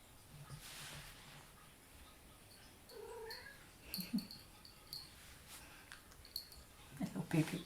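A pet cat meows in short, faint bursts scattered through a quiet indoor room, with a few sharper cries toward the end.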